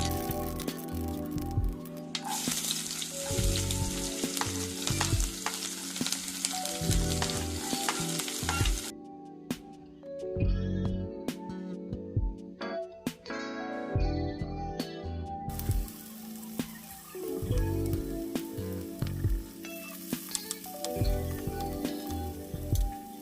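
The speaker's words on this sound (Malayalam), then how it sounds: "കടുക് പൊട്ടിത്തെറിച്ച് കഴിഞ്ഞാൽ നമ്മുടെ സവാളയും പച്ചമുളകും ഇട്ട് കൊടുക്കാം" Mustard seeds, onion and green chili fry in hot oil, giving a loud, continuous sizzle and crackle broken by stirring scrapes and clatters, with no talk.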